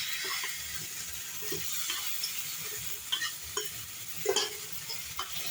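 A spoon stirs a spice mixture of red chilli powder and coriander powder in a hot pan for a Maharashtrian brinjal bharta, steady sizzling broken by scraping strokes and a few sharp clinks of the spoon, close and moderately loud, with no talking.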